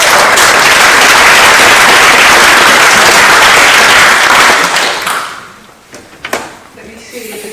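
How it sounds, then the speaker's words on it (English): Loud, dense audience applause at a livestreamed presentation swells for about five seconds, then fades quickly into a quiet room with a few scattered knocks and handling sounds. "So please give a big applause for that."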